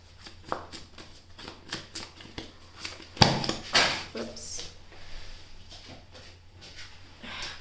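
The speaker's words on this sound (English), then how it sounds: "Shuffle again." Tarot and oracle cards being shuffled by hand, a series of quick riffling and slapping bursts close to the microphone, with a louder flurry midway and brief talk.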